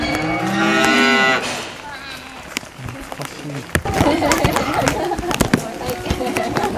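A cow gives a loud, drawn-out moo close by at a farm where visitors are feeding animals. Several people then chatter and laugh over rustling and scattered knocks.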